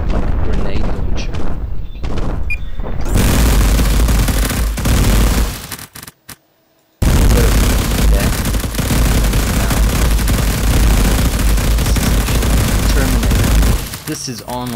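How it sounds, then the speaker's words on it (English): A mech's Gatling gun fires in the video game MetalCore: a loud, dense, sustained roar of rapid shots that cuts out briefly, then resumes just as heavily. "Oh, Gatling gun is so powerful."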